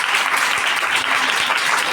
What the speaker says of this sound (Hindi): खुदावंद के कलाम के लिए जोरदार तालियां बजाएं जाए।